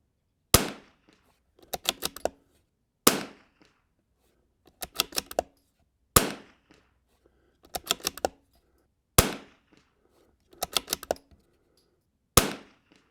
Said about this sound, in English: I'm gonna load 5 more of the SM320 and put them back on that target